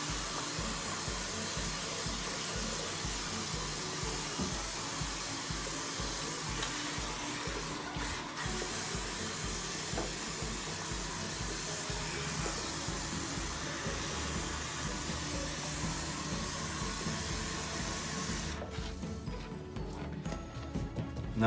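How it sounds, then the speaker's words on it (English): Water runs steadily into a porcelain sink while it is rinsed during cleaning, a loud continuous hiss and splash heard up close for about eighteen seconds before it cuts off near the end. "Now I'm going to start to rinse."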